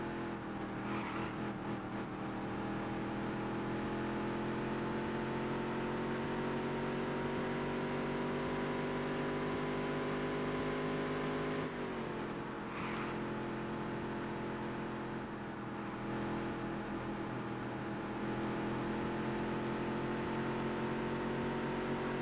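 Featherlite modified race cars in a Dirt to Daytona racing video game drone continuously at high revs, the engine note rising and shifting with a brief dip midway, loud and close with no talking.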